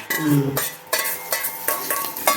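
Spoon stirring a tempering mixture in a pot while making tender coconut idli with coconut chutney: repeated scraping, clinking strokes at a steady rhythm, close and moderately loud, with no talking.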